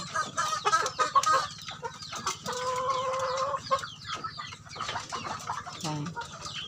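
A large old rooster on a small farm clucks in short bursts, with one longer drawn-out call in the middle. The sounds are close and moderately loud, and other fowl are heard faintly around it.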